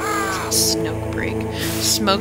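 Crows cawing in the Metal Gear Solid video game, a few harsh calls standing out over steady game music and ambience, with the loudest bursts near the start and again toward the end.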